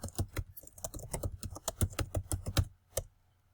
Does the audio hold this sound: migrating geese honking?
no